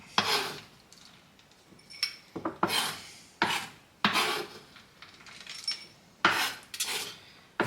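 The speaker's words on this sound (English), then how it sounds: "Chopping down the Terry's chocolate orange gives it that real authentic taste of orange" Knife chopping a Terry's chocolate orange on a board for festive hot chocolate, a rhythmic series of sharp scraping cuts and clatters, close and fairly quiet, with no talk.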